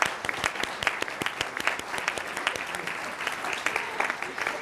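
Lecture audience applauding a plaque presentation, a room of people clapping with distinct sharp claps, steady and moderately loud throughout.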